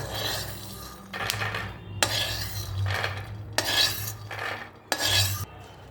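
Fried peanuts scraped and tipped from a pan onto a plate, giving repeated metallic scrapes and clinks of a spoon against cookware over a low background hum, with no talking.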